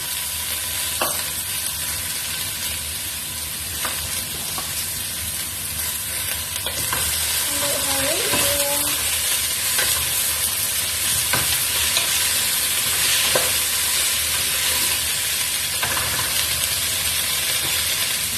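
String beans and moringa leaves stir-fried in a pan give a steady, close sizzle, with light clicks of stirring scattered through it and no one talking.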